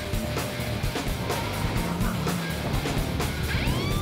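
A small turbocharged car revs hard near 7,000 RPM under acceleration, a loud, sustained engine roar heard from inside the cabin with road and wind noise underneath and rising whine toward the end.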